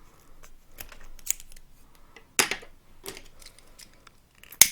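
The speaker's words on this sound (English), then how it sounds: "Now we grab this corner with tweezers under a slight angle and trim the excess fabric" Scissors trim excess grosgrain ribbon while making a kanzashi ribbon flower, producing several crisp, close snips spaced unevenly over a quiet background.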